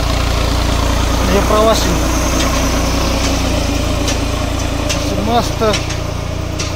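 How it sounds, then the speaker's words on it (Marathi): A New Holland 4x4 tractor engine labors steadily uphill hauling around 50–60 passengers, a continuous low drone running throughout while people talk over it. "हा 4x4 tractor, 4x4 new Holland tractor आहे"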